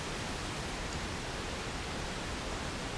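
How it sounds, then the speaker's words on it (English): Steady pink noise test signal, a smooth even broadband hiss holding constant and fairly faint with no variation or other sounds. "you're going to absolutely hate pink noise"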